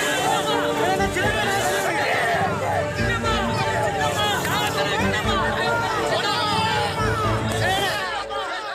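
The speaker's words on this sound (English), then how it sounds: "At her final stop before Chennai in Vellore, close to midnight on Monday, the crowd went into a frenzy." A frenzied crowd of Sasikala supporters at a late-night rally stop in Vellore, a loud, dense, continuous babble of shouting and cheering voices close by, with speech mixed in throughout.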